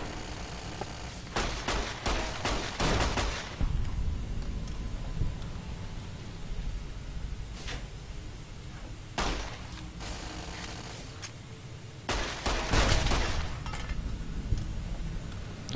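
Automated turrets firing in Fallout New Vegas: several loud rapid bursts of gunfire with metallic clinks, separated by short quieter gaps, close and alone without talk.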